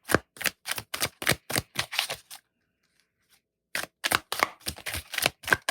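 Rapid bursts of tarot cards being riffled and shuffled, a quick run of crisp flutters, a pause of silence, then another run of shuffling.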